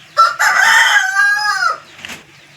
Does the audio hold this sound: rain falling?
no